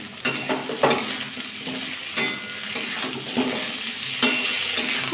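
Pumpkin pieces are stirred in a hot cooking pan, a spoon scraping and clinking against the metal in irregular strokes over a soft, continuous sizzle of frying.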